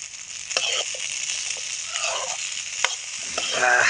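Potatoes sizzle steadily in a pan with sesame seeds while a utensil stirs and scrapes now and then, a close, continuous frying hiss with no voices.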